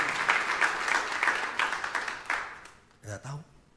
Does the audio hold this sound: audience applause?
yes